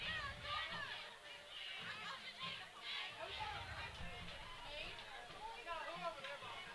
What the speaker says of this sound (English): There's been a lot of crowd noise tonight.